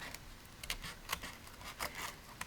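Snips and recoil scissors cutting a paper background piece for a crafting frame, heard as close, quiet, irregular snipping and rustling strokes over a soft hiss.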